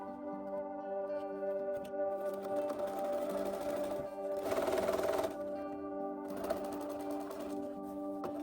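A sewing machine stitches the side seam and pocket of a Renaissance fantasy-inspired dress, running steadily and close with a continuous whirring hum and slight swells in speed.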